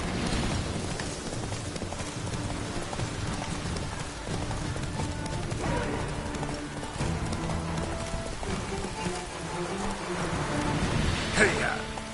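Horse hooves clip-clop steadily under an old-fashioned horse-drawn scene, with music and occasional voices layered over the rhythmic steps and a brief louder knock near the end.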